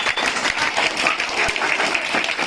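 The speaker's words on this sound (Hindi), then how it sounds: "जबरदस्त तालियां" Enthusiastic audience applause at a performance, dense steady clapping from many hands filling the clip at close range, loud and continuous with no speech over it.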